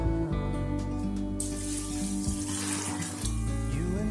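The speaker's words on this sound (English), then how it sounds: "So we need to add 1 liter of boiling water." Boiling water pours steadily into a pot of Nigerian beans porridge with a hissing, bubbling rush, continuing without pause and with no voices.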